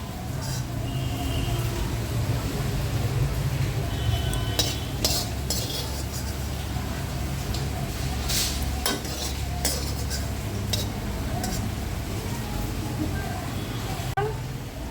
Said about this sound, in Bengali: এখন আমার রসুনগুলো ভালোভাবে ভাজা হয়ে গেছে